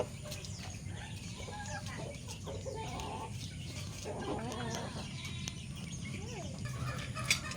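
Farm chickens, among them a young white stag and a white hen, cluck faintly in a steady scattered stream of short calls against quiet ambient noise.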